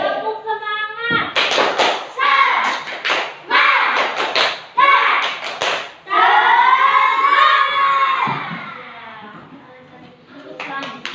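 Children in a classroom clap out a rhythmic spirit-clap pattern in bursts of sharp claps, loud and close, with young voices chanting along.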